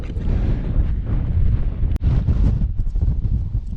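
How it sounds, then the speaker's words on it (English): Strong wind buffets the microphone on a mountain ridge in Glencoe, Scotland, producing a loud, gusty low rumble throughout with one brief dropout; no voices. "wind's dropped a bit, and I can show you the panorama from this spot, which is a little bit more sheltered"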